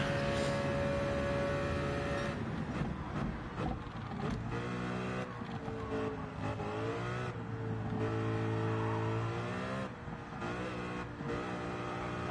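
Race car engine in Gran Turismo 7 during the Spa endurance race, a loud continuous howl that rises and falls through gear changes and revs, steady and close throughout with no voices.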